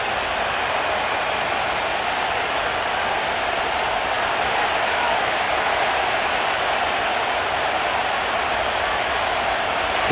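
The stadium crowd in the Madden NFL 25 video game, at a simulated Las Vegas Raiders versus Washington Commanders match, holds a continuous, even roar with no clear breaks.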